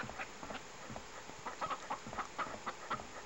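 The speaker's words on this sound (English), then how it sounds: "There's chickens here. With their bitty eyes, the chickens carefully inspect their tiny homes." Chickens cluck in a coop scene of the video game Rule of Rose, soft repeated clucks and short calls scattered over a quiet ambient background.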